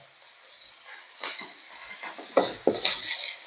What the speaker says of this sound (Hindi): अब मेरे द्वारा तेल डाला जा रहा है